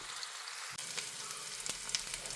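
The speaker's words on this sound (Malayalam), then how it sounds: "റെഡിയാക്കി വെച്ച സോയ ഇട്ട് കൊടുക്കുകയാണ്. ഫ്രൈ ആയി വരുന്നത് വരെ നമുക്ക് വെയിറ്റ് ചെയ്യാം." Soya chunks for pickle frying in hot oil, a quiet start giving way at once to a steady broadband sizzle with scattered crackles and pops, close and unbroken, no voices.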